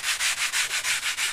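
Light sanding across a metal plate in steady back-and-forth strokes, about eight even rasping passes in a regular rhythm, close and clear with no talking.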